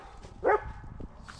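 A dog gives a single short bark at a rural property where a mini excavator is being used to clear tree stumps, moderately near and otherwise quiet around it.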